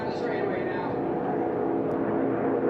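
T6 aircraft racing around pylons produce a steady, loud propeller-engine roar that drones without a break, with a voice talking over it.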